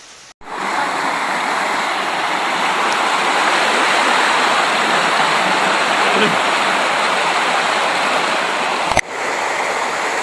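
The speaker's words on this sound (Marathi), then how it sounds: "पाऊस सुरू झालेला आहे." Steady, dense hiss of heavy rain pouring down outdoors on a trek near Malangad, Kalyan, loud and unbroken after a brief quiet start, with a single sharp knock near the end.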